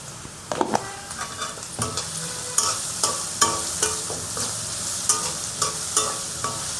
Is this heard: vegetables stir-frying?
yes